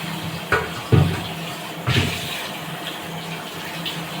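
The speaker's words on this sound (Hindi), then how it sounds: "अब मैंने इसमें थोड़ा सा गर्म पानी डाला है" Hot water poured into a mix while lassi is being made, a steady splashing pour with a few sharper bumps near the start over a continuous watery hiss.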